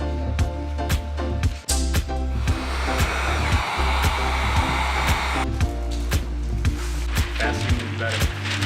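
A heat gun blows steadily while pressing window tint film into the corners, a loud continuous whooshing hum with rhythmic tapping and squeaks over it and a voice speaking now and then.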